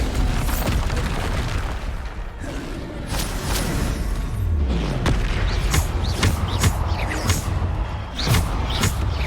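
The Bombarda explosion spell erupts in Hogwarts Legacy amid a chaotic fight, with repeated booming blasts and sharp bursts scattered across a loud, busy mix of combat effects.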